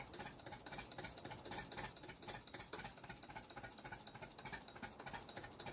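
An old Zetor tractor idles in Farming Simulator 19 with a rhythmic knocking chug, steady and fairly faint, with no voices over it.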